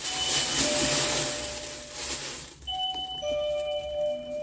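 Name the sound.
doorbell ringing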